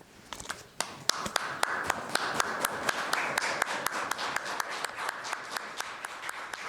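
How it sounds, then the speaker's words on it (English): Clapping rings out at a finance minister's swearing-in ceremony, loose scattered claps that settle into a moderately paced rhythm of distinct hand claps over a soft room murmur. "Clapping and hugs for a job that Dominic LeBlanc is tasked with doing because the government is in a crisis"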